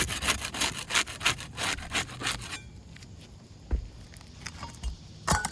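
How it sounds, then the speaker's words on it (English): A putty knife works under the top row of roof shingles to break their seal. Rapid, rhythmic scraping strokes come first, then thin out into a few sparse scrapes and knocks, with no talking. "Start by getting the top row shingles unsealed with the putty knife."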